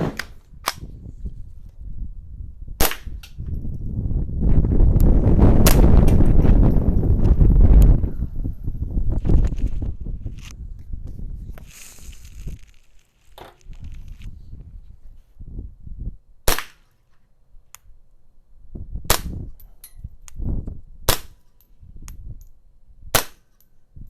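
Subsonic ammunition fired through homemade and factory suppressors, a series of sharp suppressed shots, about a dozen, spaced irregularly, with a loud gusty rush of wind in the middle, no talk.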